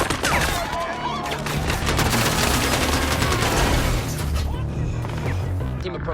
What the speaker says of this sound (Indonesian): Aksi tembak-tembakan pun tak terhindarkan.